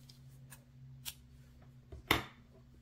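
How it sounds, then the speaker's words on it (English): Scissors cutting crochet yarn, a faint opening click followed by one sharp close snip, near and brief over quiet background hum. "We're going to cut our yarn."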